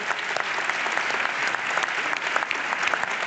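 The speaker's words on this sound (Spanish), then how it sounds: "Ese aplauso es para vosotros, para vosotras, para ustedes." An audience at a cultural forum on science and space-time bursts into sustained, dense applause, many hands clapping steadily and fairly close for the whole stretch, with no clear voices on top.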